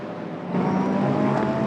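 A pack of GT race cars at the Estoril circuit in Portugal closes in on turn one, engines droning in a dense, steady roar that swells louder partway through, no voices present.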